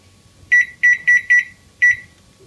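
A microwave oven keypad is tapped to set 50 seconds for a mug cake, giving five loud, clear electronic beeps, four in quick succession and one after a short pause, close by with no speech.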